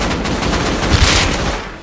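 Rapid bursts of gunfire in the survival video game Rust, a dense, loud crackle of repeated shots running continuously with no speech over it.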